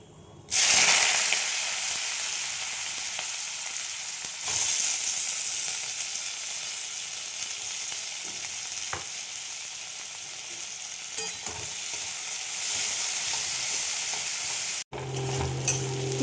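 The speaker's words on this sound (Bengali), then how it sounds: "পেঁয়াজগুলো ভাজা হয়ে গেছে।" Long-sliced onions fry in hot oil with a bay leaf, a loud steady sizzle with scraping stirs and a brief pause before the crackle resumes.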